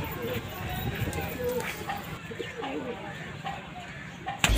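Madrasi pigeons coo softly and repeatedly in a dense, noisy setting, their low murmuring calls partly buried under a person talking, with a sharp knock at the end.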